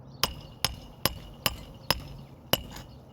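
A hammer strikes a nail strip six times at a steady, evenly spaced rhythm, each sharp metallic hit ringing briefly over a quiet background with a faint granular trickle after the blows.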